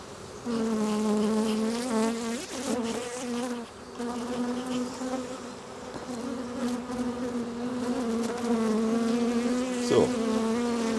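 Honeybees buzz continuously and close up during an inspection of a Langstroth hive, a dense, steady droning hum with small swells and a few sharp bumps, with no voices.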